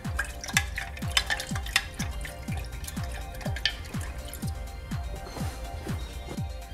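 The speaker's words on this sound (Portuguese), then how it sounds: "vou mexer bastante para poder misturar a cachaça bem misturada com a nossa calda né, de açúcar" Cachaça being stirred into a sugar syrup, giving a steady series of regular liquid swirling and dripping strokes with faint clinks, close and fairly quiet, with no talking.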